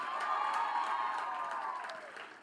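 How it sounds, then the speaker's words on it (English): A conference audience at a national science and technology exhibition opening ceremony applauds and cheers, a dense wash of clapping with faint crowd voices, steady and moderately distant, slowly tapering at the end. "we get a proper round of applause for Madam Elizabeth Bergen"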